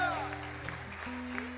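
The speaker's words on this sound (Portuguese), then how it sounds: "Você pode dar uma linda salva de palmas para Jesus?" A worshipping congregation in a Portuguese-language service gives Jesus a round of applause, a soft, diffuse wash of many hands clapping beneath sustained keyboard chords, with voices faintly mixed in.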